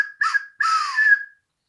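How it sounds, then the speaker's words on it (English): A handmade turned wooden whistle is blown in two short shrill bursts, the second longer with a warbling, bird-like tone, loud and close with nothing else around it. "I did other things like these whistles."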